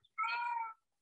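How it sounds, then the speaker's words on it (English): A house cat meows once, a single clear drawn-out cry heard close and alone in an otherwise quiet room. "I'm sorry, that's my cat."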